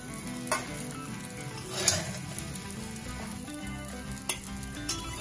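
Gobindobhog rice frying and being stirred in a wok over a medium flame, a continuous close sizzle broken by a few sharp scrapes and clinks of the spatula against the pan.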